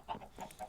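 A chicken in the Minecraft Farm Hunt game gives three quick, soft clucks in an even rhythm, close and fairly quiet.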